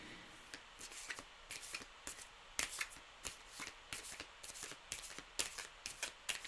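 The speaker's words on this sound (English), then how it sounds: "I just felt the deck was sticky, so I had to shuffle a different way." A sticky tarot card deck is shuffled by hand close by, giving a fast run of crisp papery clicks and riffles in uneven bursts, with no one talking.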